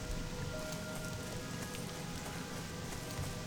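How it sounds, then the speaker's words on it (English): Rain pouring steadily in the Elwynn Forest area of World of Warcraft, a dense, even patter on surfaces that continues without a break throughout, with no talk. "the sky begins to pour rain"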